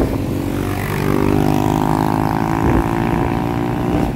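A motorcycle engine drones steadily close by on a village road in a Philippine barangay, swelling slightly louder through the middle as it goes past, with no one talking.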